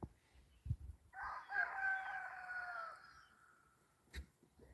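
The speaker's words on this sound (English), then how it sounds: "that would be Miss Melissa's chickens" A rooster crows once in a single drawn-out call, somewhat distant, with a few faint clucks and thumps around it in a quiet setting.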